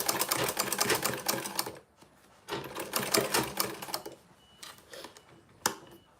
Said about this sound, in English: I'm just going to sew around it.